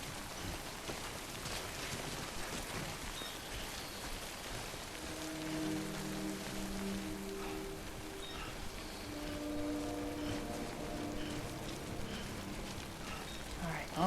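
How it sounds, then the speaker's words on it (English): Steady rain in the video game Death Stranding, a constant hiss of falling water with soft droplet patter over low rumbling ambience, continuing without a break throughout. "The rain should also start easing up"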